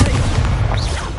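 Loud, dense burst of magical fire from an Incendio spell cast in Hogwarts Legacy on PS5, a roaring whoosh with a faint rising whistle over continuous combat noise.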